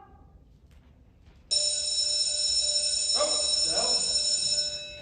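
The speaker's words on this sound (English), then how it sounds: "bell's rung. It's time for recess, guys." A school bell rings for recess in a stage play, starting abruptly as a loud, sustained electric ring that runs for several seconds, with a brief voice underneath.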